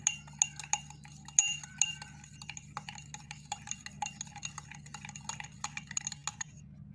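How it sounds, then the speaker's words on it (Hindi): A cold drink mixture of homemade cola with black food colouring is stirred in a glass, giving a steady run of light clinks and scrapes close by, with no talk. "अब इसको अच्छी तरह से मिक्स कर लेंगे।"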